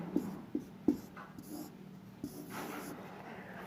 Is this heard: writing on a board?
yes